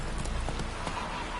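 Horse Roach's hooves clip-clop in a short, steady burst within a video game scene, close and fairly loud over a constant ambient bed.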